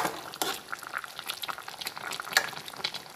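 Taro and banana boil in a pot, giving a quiet, uneven patter of bubbling pops and small liquid crackles with no voices.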